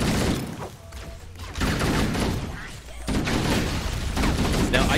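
Gunfire in Halo: Combat Evolved, a chaotic fusillade of shots in overlapping bursts with brief lulls, dense and fairly loud throughout.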